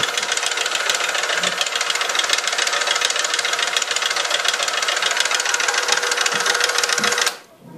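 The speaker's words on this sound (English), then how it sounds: "Now here the machine is with the extension hoppers intact, and I was able to cram an entire box of pennies into the hopper." A Ryedale Apprentice coin sorter runs through a crammed hopper of pennies, making a continuous loud mechanical clatter and rattle of tumbling coins that cuts off abruptly near the end.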